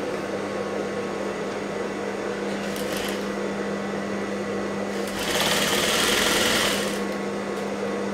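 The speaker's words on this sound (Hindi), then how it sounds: "अभी यहाँ पर मैंने पूरी सिलाई मार ली है।" A sewing machine runs steadily while stitching a blouse with a kundan design, giving a constant close mechanical hum that grows briefly louder and busier partway through.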